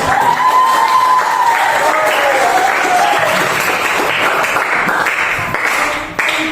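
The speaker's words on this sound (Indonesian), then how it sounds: "terima kasih tepuk tangan" Classroom audience claps during a teaching practice session, sustained loud applause with a voice speaking over it early on, tapering slightly toward the close.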